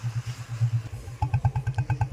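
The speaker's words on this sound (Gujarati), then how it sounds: "તમે અમારા બુલેટનો અવાજ સાંભળી શકો છો." A Royal Enfield Bullet motorcycle engine thumps in a steady, close pulsing beat on a ride through a village street, the rhythm quickening and sharpening partway through as the throttle opens.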